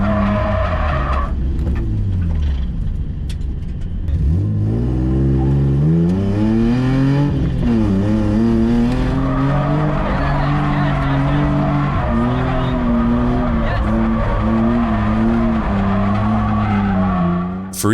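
A Nissan 350Z drifts with loud, sustained tire squeal and skidding over a revving engine whose pitch rises and falls as the car slides, close and continuous throughout.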